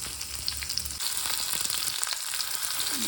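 Sliced sambar onions fry in a pan for a head mutton curry, giving a steady, close, dense sizzle throughout with faint stirring sounds and no talking.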